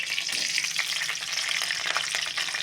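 Onions, curry leaves and green chillies frying hard in hot oil with mustard seeds, chana dal and cumin for a potato and cauliflower curry, a dense continuous crackling sizzle with occasional stirring.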